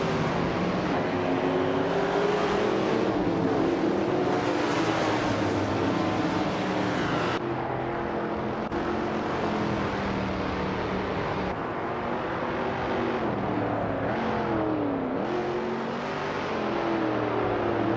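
Race cars in a racing video game roar and overtake one another, a continuous loud engine drone with shifting pitch as revs rise and fall, several cars close together with brief changes where one passes another.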